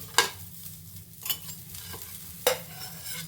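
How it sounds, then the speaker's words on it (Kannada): Cinnamon, clove and mint frying in a pan, a soft continuous sizzle broken by three sharp scrapes of a stirring spoon against the pan, close and without talk. "ಹಾಗೆ ಚಕ್ಕೆ ಲವಂಗ ಪುದೀನ ಎಲ್ಲ ಹಾಕ್ಕೊಳ್ತಾ ಇದ್ದೀನಿ ಸ್ವಲ್ಪ ಫ್ರೈ ಆಗಬೇಕು"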